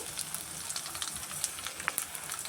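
Asafoetida tipped into hot tempering oil with curry leaves and dried red chillies, giving a steady close crackling sizzle with small pops throughout.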